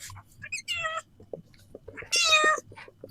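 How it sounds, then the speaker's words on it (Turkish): A cat meows twice close by, with drawn-out, rising cries separated by a pause, and soft background noise and shuffling in between. "Sessiz miyavlama."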